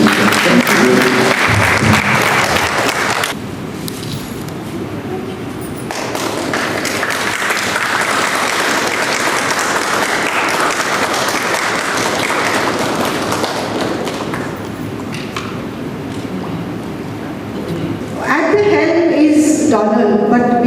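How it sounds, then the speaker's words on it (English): A crowd at a farewell function by homeless people of Street Providence for a senior police officer applauds loudly and at length, with dense clapping, shifting intensity and voices near the end. "So big applause to Street Providence and the mission."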